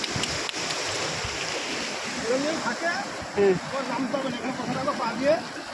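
Sea waves washing in at Digha beach, a constant rushing surf with swells building and breaking, under people talking nearby throughout.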